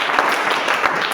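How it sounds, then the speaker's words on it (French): A church congregation applauding during a sermon, a brief dense wash of clapping that is steady and fairly loud for its short length. "Acclamons très fort."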